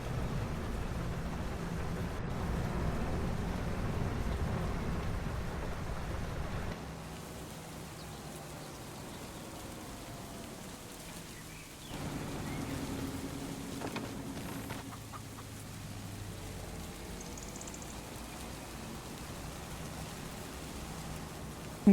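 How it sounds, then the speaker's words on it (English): Steady patter of rain across a farm in Farming Simulator 25, a broad wash of noise that drops to a quieter, thinner shower partway through and continues evenly to the end. "the rain is supposed to end in a few minutes"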